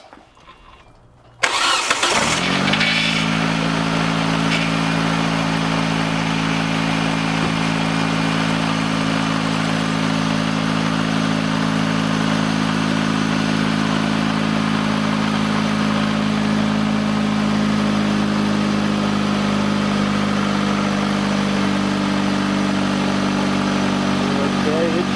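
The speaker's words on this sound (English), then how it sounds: "let's watch that and see what happens when I crank the motor" A Hyundai Elantra engine cranks briefly after a moment of quiet, catches, and settles into a steady, loud idle that drones on evenly for the rest of the stretch.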